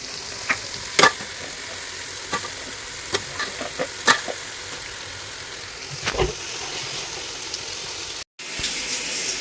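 Crab pieces fry in a ginger garlic paste while being stirred, giving a soft steady sizzle with scattered sharp scrapes and clinks of a spoon against the pan, close by, with no voices.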